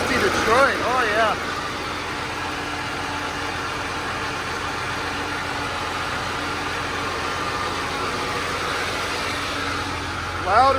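A Detroit Series 60 diesel engine in a green gravel truck idles steadily and loudly. It keeps a low, even rumble throughout, with brief rising whines at the start and end.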